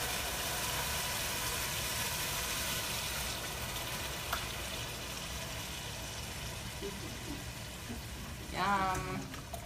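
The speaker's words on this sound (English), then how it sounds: "Ooh, sizzle." Garlic sizzles in hot olive oil with a soft, steady frying hiss throughout, and a few small clicks and a brief utensil scrape come near the end.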